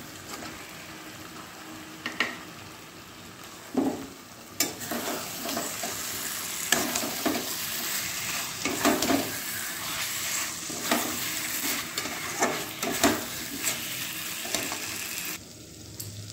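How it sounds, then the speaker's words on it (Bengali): Paneer sizzling in a pan of masala while being stirred, a soft steady frying hiss broken by repeated scraping and clinking strokes of a spoon against the pan. "এবার আমি পনিরগুলো দিয়ে দেবো।"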